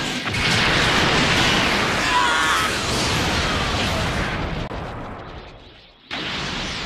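A loud, roaring blast of a Special Beam Cannon energy attack in a Dragon Ball video game explodes and rumbles for several seconds, slowly fading before a brief cutoff and a renewed burst of noise.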